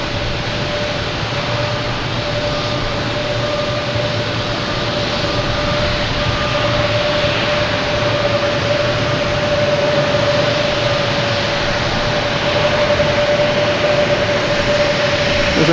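American Airlines jet airliner at Boston Logan Airport, a continuous broad roar of jet engine noise with a steady whine, sustained at an even moderate level throughout, no talking.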